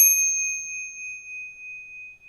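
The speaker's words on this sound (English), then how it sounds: "we have the meditation bell." A meditation bell struck a single time, a clear pure ring with a bright start and a long, steady tone that fades slowly into silence.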